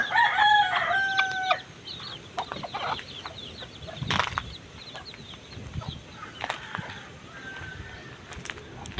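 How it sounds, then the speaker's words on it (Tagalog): A junglefowl rooster crows a few times early on, loud and close, followed by scattered clucks and rustling outdoor noise in windy weather in Bohol, Philippines. "aking nag-iisang tandang ayun na labuyo nag-iisang labuyo"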